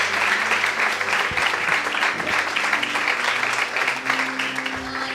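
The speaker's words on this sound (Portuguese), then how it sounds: "Então recebe o servo de Deus com a salva de palmas nessa noite." A church congregation gives a round of applause for a preacher, with dense, steady clapping filling the room for several seconds at close range, while a voice speaks faintly underneath.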